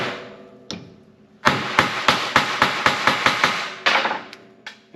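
A hammer strikes a punch through rubber on a steel table in a quick series of about a dozen sharp, ringing blows, close and loud, preceded by a couple of isolated hits.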